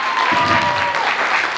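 Applause from parents and audience at a first-grade school concert for the children, a steady dense clapping crowd sustained throughout, with faint voices underneath.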